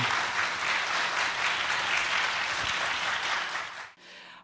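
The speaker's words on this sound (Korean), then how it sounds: "우리 두 분께 큰 박수 부탁드립니다." Audience applause for two readers at a church letter-reading lecture, steady dense clapping filling the room for about four seconds, then cutting off abruptly into quiet.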